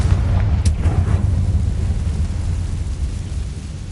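A Confringo blasting spell in Hogwarts Legacy erupts as a loud, deep rumbling explosion with a sharp crack near the start, then a sustained heavy roar that slowly fades.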